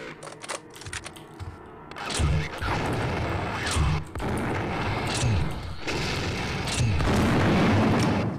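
Grenade explosions in the video game System Shock 2 go off as a loud, dense run of booming blasts and crashing debris, repeated several times over sustained combat noise after a quieter opening.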